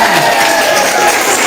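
A crowd of high school students at SMA Negeri 1 Kota Binjai applauds indoors, a loud, continuous wash of clapping and crowd noise that fills the whole moment.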